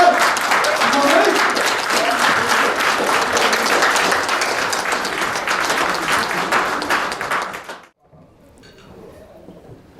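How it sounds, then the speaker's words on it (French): Dense applause from a standing audience at a formal closing address of a community gathering, steady and loud for nearly eight seconds before cutting off abruptly into near silence with faint room noise. "Applaudissez. Vous entendez?"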